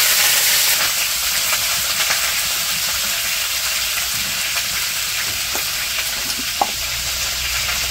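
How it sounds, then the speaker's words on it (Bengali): Eggplant pieces frying in a pan in a village kitchen: a loud, continuous hissing sizzle up close, with occasional faint clinks, and no talking. "মা বেগুন ভাজি করতেছে।"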